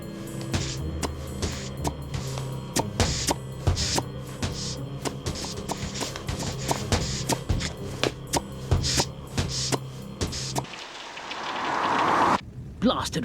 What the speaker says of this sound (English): Blasted rain.